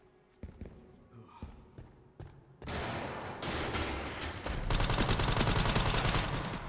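Bonus-content guns firing in the video game Resident Evil Requiem: scattered sharp reports early on, then a sustained loud burst of rapid gunfire that grows denser and louder toward the end.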